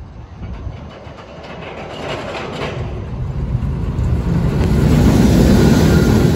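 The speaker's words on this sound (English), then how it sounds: "there is a train going up the track" A roller coaster train climbs the Steel Eel track at SeaWorld San Antonio, its rumble and clatter growing steadily louder as it nears, with a continuous mechanical rattle and no talking.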